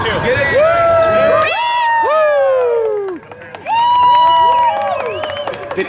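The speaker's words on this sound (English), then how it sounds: "Why are we cheering?" Audience on the Rise of the Resistance ride cheering and shouting in a loud burst that swells, dips briefly, then rises again, with excited voices and whoops layered over a busy theme-park ride setting.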